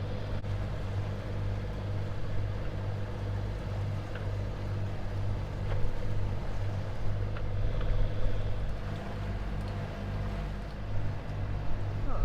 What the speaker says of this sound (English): let this ferry go through